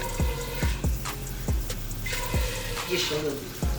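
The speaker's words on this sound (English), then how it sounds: "we wanna add some water to here" Water poured from a tap into a cooking pot, a continuous splashing stream with recurring low drumming thuds as it fills, close by, with a person talking partway through.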